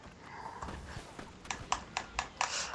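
Horse hooves in the video game Red Dead Redemption, faint scattered steps building into a quick run of sharp clip-clop beats toward the end.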